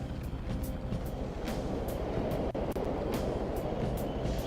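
A subway train rumbles past in the Persona 5 video game, a loud, steady roar with a rhythmic series of clacks repeating about every half second and no voices.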